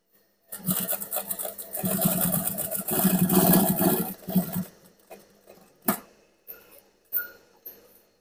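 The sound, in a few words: sewing machine stitching back and forth on waistband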